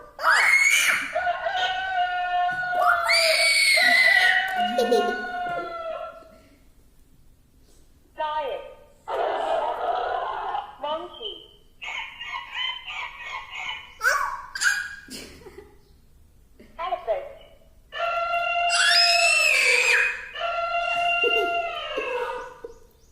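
A voice imitates a rooster crowing in high, drawn-out calls at the start and again near the end, with talk and squeals in between.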